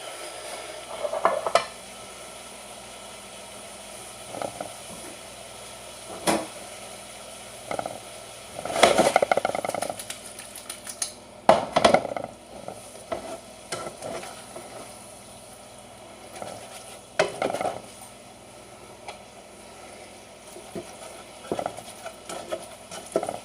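Ground meat frying in its own grease in a pot for chili, a soft steady sizzle with occasional stirring scrapes and clinks of a utensil, close and fairly quiet with no talk.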